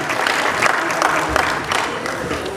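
A crowd at a political speech claps to welcome a guest, a lively stretch of applause with distinct individual claps popping out of the steady patter, close and fairly loud.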